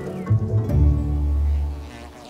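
A loud, steady low buzzing of honeybees holds for about two seconds, close and continuous with a slight swell in the middle.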